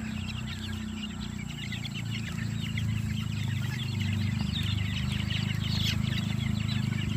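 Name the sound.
gamefowl chicks and chickens clucking in a range area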